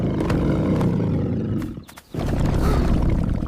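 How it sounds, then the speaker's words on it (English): A toy's recorded lion roar plays loudly and close, a sustained growling roar that drops out briefly for a moment before a second roar surges back in. "That was a big roar."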